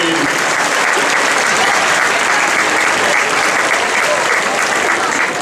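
A large audience applauds at a folk dance show marking a group's 60th anniversary, dense continuous clapping filling the hall at steady, strong volume from start to end.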